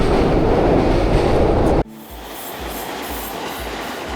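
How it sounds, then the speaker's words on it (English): A train rumbles past at close range near Shinjuku Station in Tokyo, by the Omoide Yokocho drinking alley, loud and steady before abruptly dropping to a lighter, rhythmic rolling clatter. "So if you enter, you can see the train."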